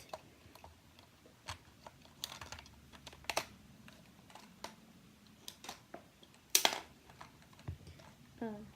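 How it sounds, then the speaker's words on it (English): Batteries being removed and inserted in an original Nintendo Game Boy: a string of small plastic clicks, snaps and taps, close and fairly quiet, spread irregularly with a sharper clack near the end. "So let's switch over these batteries."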